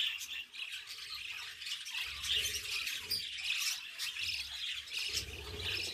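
Budgerigar chicks in a nest chirping and squawking continuously, a busy, close chorus of high calls with some faint low thumps underneath.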